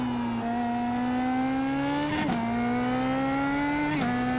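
A race car at Tsukuba in iRacing holds a steady high engine drone, then its pitch dips twice in quick drops as the driver lifts off the throttle and brakes before climbing again.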